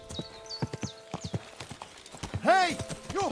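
A horse in the medieval game Kingdom Come: Deliverance II clip-clops in irregular hoof strikes, then whinnies and snorts loudly up close, with voices sounding alongside.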